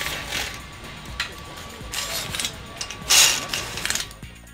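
A temporary bolt being removed during assembly of a Suzuki ATV in a garage, with metallic clicks and ratcheting rattles, one louder bright clank near the end, over a steady hum of shop background.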